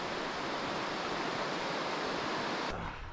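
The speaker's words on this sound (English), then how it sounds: "Looking down at Caples Creek right here." Steady broadband rush of Caples Creek water flowing below a fire-damaged viewpoint in Eldorado National Forest, continuous and loud throughout, cutting off abruptly near the end.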